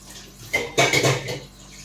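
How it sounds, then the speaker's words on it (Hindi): Dishes being washed at a sink, close clinks of utensils and pots mixed with splashing running water, a short busy burst rising then easing off. "अब मैं काम भी करती हूँ, तो बर्तन धोती हूँ।"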